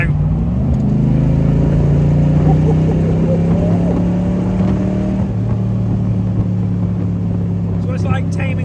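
An AC Cobra classic sports car drives on an empty Cotswolds country road, its loud engine droning and rising through the revs, with the note shifting as it accelerates and voices talking over it.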